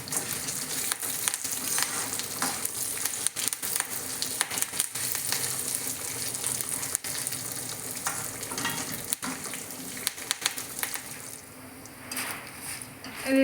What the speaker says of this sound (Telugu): దీంట్లో కొంచెం కరివేపాకు వేసుకొని ఫ్రై చేసుకోవాలి.